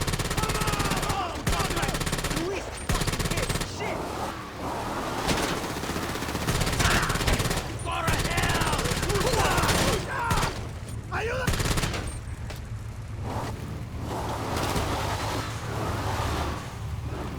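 Sustained automatic gunfire from GTA 5 Online during an arms trafficking mission, rapid bursts and shots running almost throughout, loud and close, mixed with game effects and some background voices.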